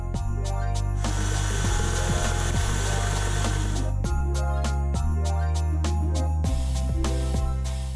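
An electric mixer beats icing for gingerbread cupcakes with a loud, continuous motor whine whose pitch shifts up and down several times as the speed or load changes, running throughout without talk.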